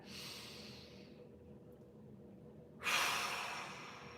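A deep breath during a back-mobility exercise: a soft breathy exhale at first, then a sudden loud, close inhalation that rushes in and slowly fades, with no talking.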